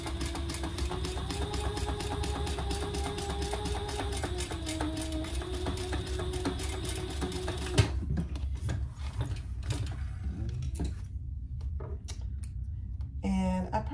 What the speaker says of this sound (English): I'm just gonna sew across that line